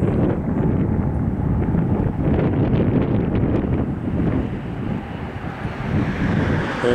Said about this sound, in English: Wind has been kind of variable